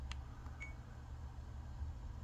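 An action camera gives a couple of short, faint electronic beeps as its mode button is pressed, heard over a steady low background hum with no talking.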